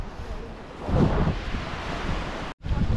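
Surf washing onto a clean sandy beach at Shrivardhan, a broad rushing wash that swells near the start, mixed with wind buffeting the microphone, with a brief dropout near the end.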